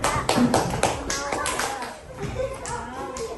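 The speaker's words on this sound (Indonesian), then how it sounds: "tepuk tangan untuk temannya" Classroom applause for a classmate after a group presentation, a dense burst of many hands clapping close by, steady through the clip with children's voices talking faintly underneath.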